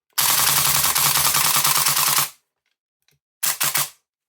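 An airsoft gun being fired in semi-auto mode gives a long, loud buzzing burst, then after a pause a few quick, sharp shots close by.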